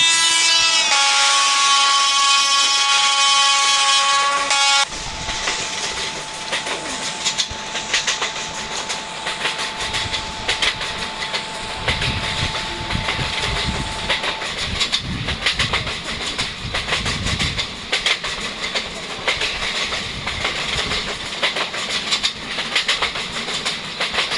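Train running on rails in an India train simulator game, heading for New Delhi: a brief tonal horn-like sound opens, then continuous loud rumbling wheel noise with a rhythmic clickety-clack over the rail joints.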